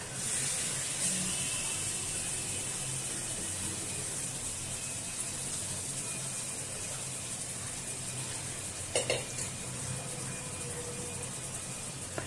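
Boiled jackfruit goes into a pan of fried spices, raising a steady, fairly quiet hiss and sizzle that runs evenly throughout, with a few faint clatters near the end and no talking.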